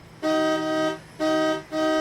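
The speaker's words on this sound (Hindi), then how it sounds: "अरे पीछे वाली गाड़ी को क्या चाहिए, कब से हॉर्न बजाया जा रहा है?" A car horn honks from a vehicle waiting behind at a red light, giving three loud, steady toots in quick succession with short gaps between them.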